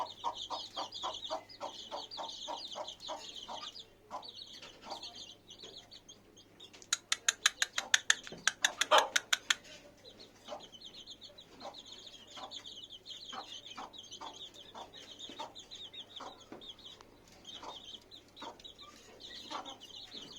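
A hen clucking among her frizzle-feathered chicks, with rhythmic low clucks and high peeping chirps repeating throughout, plus a brief burst of rapid louder calls midway, close by and without talk.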